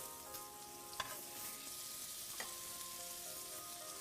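Quinces frying in a pan, giving a soft, steady sizzle with a couple of faint clinks, quiet and close, with no voices.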